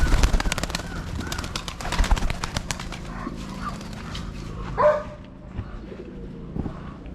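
Pigeons cooing on a small farm with horses and dogs, soft low coos mixed with scattered clattering and rustling nearby, fading quieter in the second half, with no talk.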